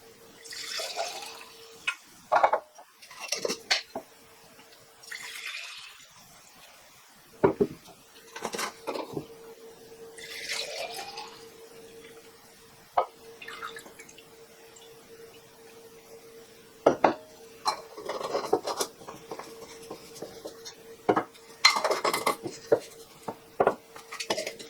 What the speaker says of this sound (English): I'll just distribute it between 3 mason jars as equally as I can